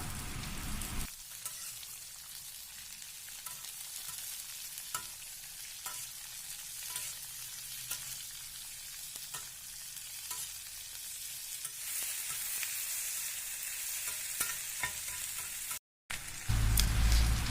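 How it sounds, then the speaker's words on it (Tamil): Chopped onions sauté in hot oil for Tamil chicken kulambu, a steady close sizzle and crackle with occasional stirring scrapes, continuing alone throughout. "வெங்காயம் நல்லா வணங்கிருச்சு, தக்காளி ஆட் பண்ணிக்கலாம்."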